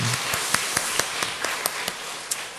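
At a Wednesday mothers' prayer meeting, the congregation claps in thanks to the staff: scattered, separate claps ring out irregularly over a steady background hiss, fairly close and crisp.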